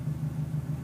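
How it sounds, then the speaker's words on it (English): Loud exhaust of a Subaru WRX rumbling steadily at idle, a deep, even low drone filling the brief moment with no talk. "this car has quite a loud exhaust, so if it's coming over the mic, I apologize"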